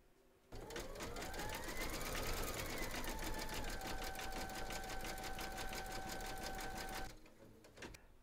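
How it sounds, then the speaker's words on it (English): An embroidery machine stitches light pink rosy cheeks on an in-the-hoop teddy and unicorn bag, a fast, steady mechanical stitching that runs for about six and a half seconds and then stops. "Load your thread colour for the rosy cheeks into your machine and then stitch round number 9"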